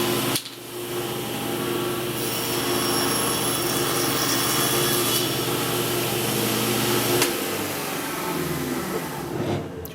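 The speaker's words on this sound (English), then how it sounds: "raise your saw blade up about 3/8 of an inch and about 1/4 of an inch from your fence, and just cut a kerf into a scrap piece of wood." Table saw with its blade raised cutting a kerf into a scrap piece of wood, a steady loud whine and drone holding for about seven seconds before the pitch drops as the cut ends and the blade spins down.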